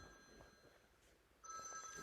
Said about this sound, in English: Apologies for this, my phone's going off.